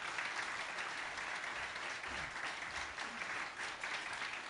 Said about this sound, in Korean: 박수로 목사님을 모시겠습니다.